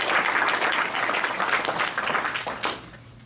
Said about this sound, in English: How about a round of applause for them as